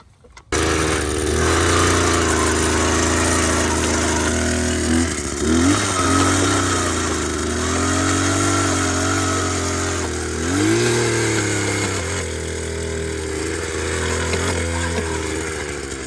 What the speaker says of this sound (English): So I changed the whole carburetor, new fuel filter and everything, new spark plug, and now it runs like new.